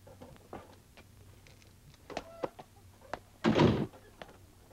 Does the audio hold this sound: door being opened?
yes